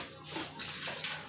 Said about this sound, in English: once you wash off the fish one time with water after you scale